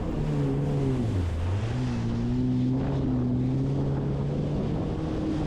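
A jet ski engine drones steadily during big wave tow surfing, its pitch dipping and rising as the throttle shifts, heard up close under buffeting wind noise with no talking.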